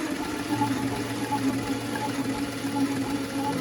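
Audi V10 engine with spark plugs removed cranking over on the starter for a compression test, a steady rhythmic whirring chug at even tempo, moderately loud and continuous.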